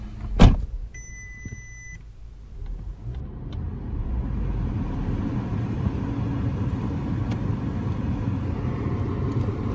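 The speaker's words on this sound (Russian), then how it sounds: "Двигатель запустился." A 2009 Audi A3 engine idles steadily after a brief mechanical clunk near the start, a low continuous rumble with faint clicks over it.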